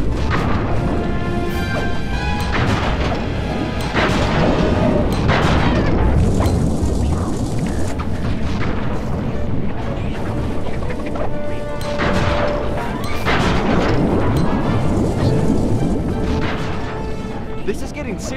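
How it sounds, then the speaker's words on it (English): Bombs exploding in the Sly 3 video game, a dense run of loud crashing booms and impacts repeating across the whole stretch, with constant game effects and music layered underneath. "Looks tough. Might take some more bombs."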